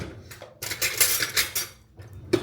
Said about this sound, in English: Take my knife and fork over.